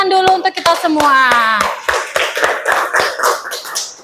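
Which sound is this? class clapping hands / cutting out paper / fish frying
class clapping hands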